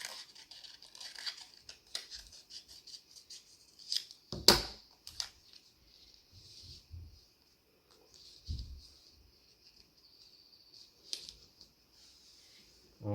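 Scissors snipping through paper to cut out a letter S craft, quiet intermittent snips and rustles of paper with a few soft thumps, close and sparse.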